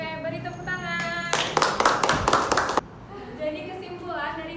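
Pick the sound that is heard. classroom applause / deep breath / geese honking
classroom applause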